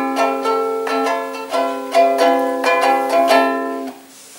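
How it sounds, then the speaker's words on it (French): A plucked ukulele plays a short run of bright, ringing notes in a steady rhythm, close and clear, fading out at the end. "Pour comparaison, voici le son d'un ukulélé."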